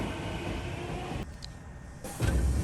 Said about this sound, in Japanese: 準急は釈土を特急列車の遅れにより定刻より1分遅れで発車